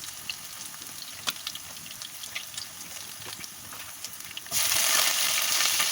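Chopped ginger and vegetables sizzle and crackle steadily in a pan while being stirred, close and moderately loud, with the frying hiss swelling much louder near the end as more vegetables go in.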